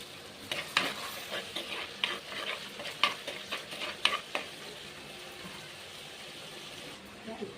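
Masala frying in oil for a goat head curry, stirred with a spoon: crisp scraping clinks and a soft sizzle for about five seconds, then the pan settles into a quieter hiss.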